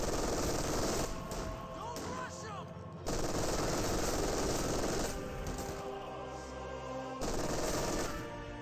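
German MG42 machine gun in the strategy game Company of Heroes 2, firing several sustained bursts broken by short pauses amid battle noise.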